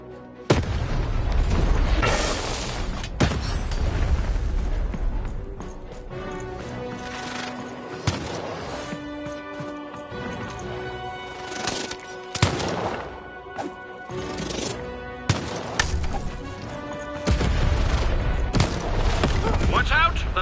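Cannon firing in Lost in Random, several heavy booms spaced through the clip amid music and game effects.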